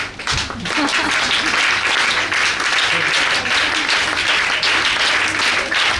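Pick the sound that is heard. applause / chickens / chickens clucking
applause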